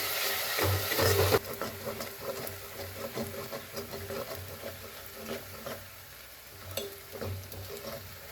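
Onions frying in oil over high gas heat for a Punjabi-style gawar phali sabzi, a steady soft sizzle with scraping stirs and a few louder clatters near the start and end.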